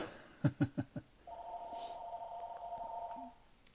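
An incoming phone call rings unanswered: a few quick electronic blips, then a steady ringing tone that holds for about two seconds, moderately faint and alone.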